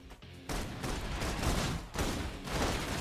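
Dense bursts of rapid gunfire in a video game fill the clip, loud and continuous with brief breaks, like sustained automatic suppression fire.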